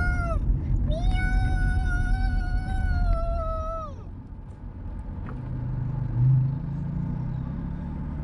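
A voice imitates a cat, drawing out long, wavering meows inside a moving car, the meows fading into the low steady hum of the vehicle on the road.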